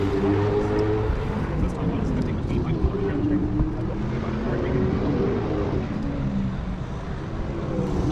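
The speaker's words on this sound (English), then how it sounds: "We're driving this supercharged Mini, making 300 something horsepower." Supercharged Mini making over 300 horsepower drives on a race track, its engine a steady loud drone with road and wind roar throughout the cabin, continuous and close.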